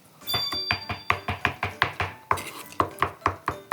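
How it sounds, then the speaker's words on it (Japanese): A kitchen knife rapidly chops pickled plum flesh on a cutting board for an ume-miso chicken breast rice bowl, giving a steady series of sharp, close wooden taps with no talk. "で梅肉叩きます。"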